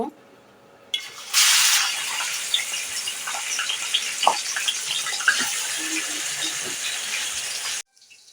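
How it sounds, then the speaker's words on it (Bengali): Loud, steady sizzling of chicken pieces frying in hot oil in a pan, with occasional clinks and scrapes of stirring, after a short quiet start. "এখন আমি মুরগির মাংসগুলো ভেজে নেব"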